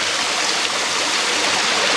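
A rocky mountain stream rushes over stones and a large boulder, producing a steady, loud broadband wash of water that fills the whole stretch without pause.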